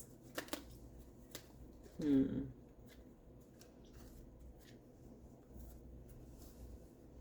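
Tarot cards being shuffled, a short, close riffle of cards standing out briefly amid faint soft handling noises and light taps.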